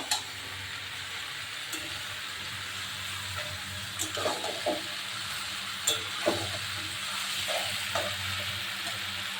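Ghugni with potatoes sautéing in oil in a wok, a steady close sizzle and fry with occasional scraping stirs and soft clinks over a constant low hum, no talking.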